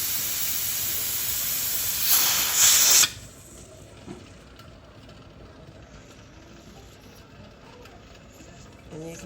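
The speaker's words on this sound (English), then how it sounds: "the steam is coming out. It's been coming out for a while" Steam hisses from a pressure canner during a pork canning session, a loud spraying burst for a few seconds that then drops to a faint, steady background hiss.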